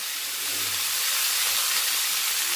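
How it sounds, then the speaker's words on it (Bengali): Vegetables, including green peas, fry in hot oil in a wok tempered with five-spice seeds and dried red chillies, giving a close, steady, even sizzle with no talking. "আর এখন এই সবজিগুলো আমি ভেজে নেব।"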